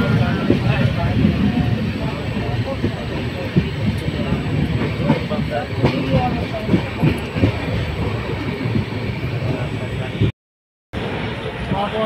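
A crowded Amarnath Express passenger train rolls along, producing a loud, constant rumble with rhythmic clatter of wheels on the rails, heard from inside the carriage with people talking over it and a short gap of silence near the end.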